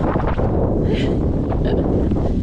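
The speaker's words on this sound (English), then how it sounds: "Oh goodness, this wind is blowing" Strong wind buffets the microphone outdoors in a garden during flower planting, a loud, constant low rumble with gusty rustling throughout.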